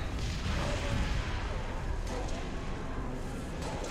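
Grenade explosion in the Halo: Reach PC co-op campaign, a dense rumbling blast with sustained low-end roar and debris-like crackle across four seconds, mixed with ongoing battle noise.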